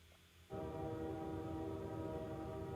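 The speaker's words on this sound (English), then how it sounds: "Oh, train." A train in the 1998 X-Files video game: a quiet background hush, then a sudden loud, sustained horn-like tone with rumbling rail noise that holds steady to the end.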